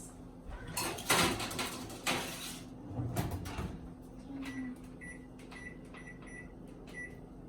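Kitchen oven sounds as a salmon dish goes into a 400-degree oven: a few clunks and bangs of the oven door and rack early on, followed by quieter appliance beeps and a faint hum, with no talking.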